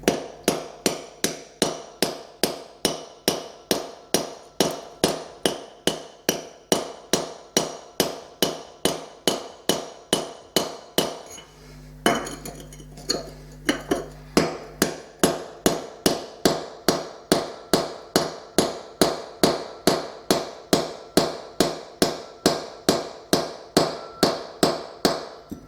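Hammer striking a chisel to chip out a floor tile, a steady rapid series of sharp metallic taps close by, with a brief pause near the middle before the regular blows resume.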